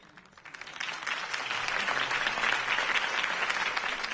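Applause breaks out for Harvey Dent's campaign speech in a Batman video game, a crowd clapping that starts thin and swells quickly into a dense, steady ovation sustained throughout.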